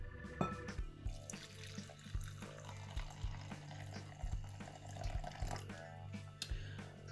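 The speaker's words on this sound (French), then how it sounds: "Une fois que c'est fait, je viens ajouter l'eau chaude, donc il faut que ce soit de l'eau bien chaude." Hot water is poured in to make glue-free slime, a quiet, continuous splashing stream with faint trickling and dripping, close by and alone.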